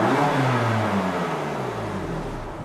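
A stock BMW M4 engine revs briefly close by, a steady loud mechanical drone that slowly eases off over a couple of seconds, with no voices.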